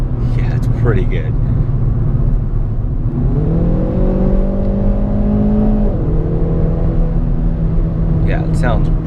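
A 2019 Hyundai Veloster Turbo engine hums steadily while driving, with a rising note as it accelerates briefly mid-clip before settling back, heard from inside the car amid road noise.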